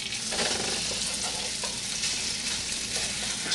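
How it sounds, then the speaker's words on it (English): Sausage browning in a pan for sausage gravy, a loud continuous hiss and crackle of fat with occasional stirring scrapes, close up and without voices. "So our sausage is starting to cook up a little bit."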